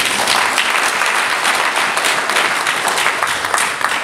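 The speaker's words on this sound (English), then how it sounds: "Let's give all of them a big cheer." Audience applause for helpers at a church celebration, a dense, steady wash of many hands clapping that stays loud for the whole stretch, with possible cheering mixed in.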